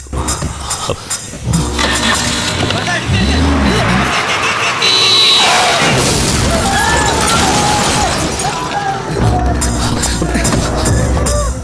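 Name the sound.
car approaching in a movie scene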